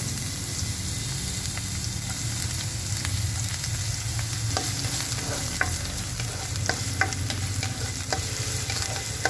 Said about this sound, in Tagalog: gisa-gisa ang ating bawang